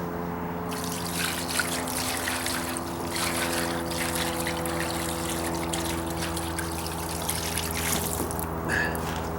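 About two gallons of water poured onto a flat wooden deck, giving a steady trickling, splashing wash that runs without a break, with a low steady hum underneath.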